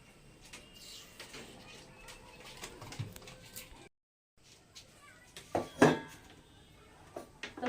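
A man hand-waters a restless pigeon in a home loft. Brief wing flaps and soft coos come through, with a few louder scuffling clatters near the end, amid intermittent talk and one short dropout.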